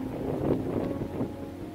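A brief stretch of low, rumbling wind buffeting the microphone, steady and moderately quiet.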